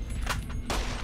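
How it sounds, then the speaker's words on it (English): Gunfire in the video game Fallout: New Vegas, a quick run of several sharp shots over a loud, steady background, close and without talk. "Just gonna keep shooting you."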